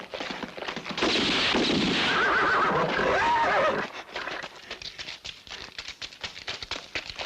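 A horse lets out a loud, drawn-out whinny, then hooves clatter in a quick, irregular run of clip-clop beats on hard ground as it moves off.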